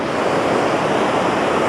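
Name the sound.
Spokane waterfall, water rushing over the lower falls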